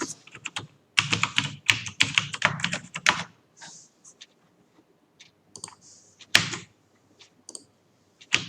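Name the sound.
typing code on a computer keyboard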